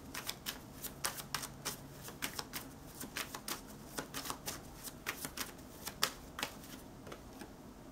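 Tarot cards handled and drawn, with a quick run of crisp, close clicks and flicks in an uneven rhythm, like cards being riffled and snapped against each other, over a faint background hum and no speech.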